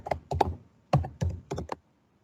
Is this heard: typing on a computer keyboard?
yes